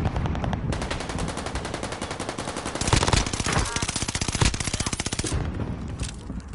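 Sustained rapid automatic gunfire in a video game firefight, loud rhythmic machine-gun bursts running almost continuously, with a few heavier impacts and some faint speech underneath.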